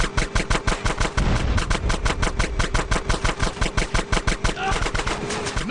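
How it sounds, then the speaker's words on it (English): Rapid machine-gun fire rattles in GTA San Andreas, a fast steady burst of shots repeating for several seconds over engine noise, loud and close, with voices mixed in. "Shoot out the gate!"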